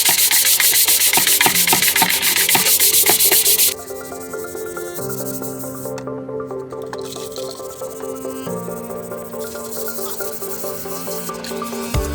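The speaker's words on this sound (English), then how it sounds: "I just need to give this a bit of a rub down because I've got a bit of glue where I've basically been gluing those on" Motorcycle bodywork on a 1991 Yamaha FZR 600 track conversion being rubbed down by hand to remove glue, a close, steady abrasive scrubbing that stops after a few seconds, leaving a quieter tonal background.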